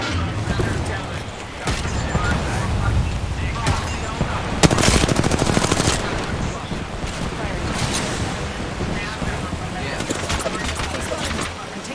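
Video game gunfire cracks in steady automatic bursts and single shots throughout, with one louder close volley near the middle, as players keep talking over it.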